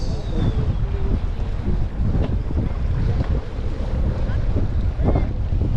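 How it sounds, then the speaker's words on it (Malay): Strong wind gusts at Kelebang beach and buffets the microphone with a steady, loud roar, while waves wash faintly in the background. "Angin kuat"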